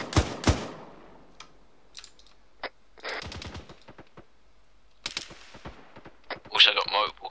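Gunfire in Arma 3: sharp, scattered rifle shots and short bursts at varying distances, some close and loud, others distant, with brief radio-style voices talking between them.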